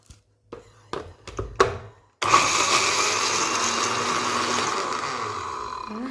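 A few scattered knocks and clatters come first, then a kitchen blender switches on at full speed and runs loud and steady while ingredients are blended for Lombok-style nasi balap.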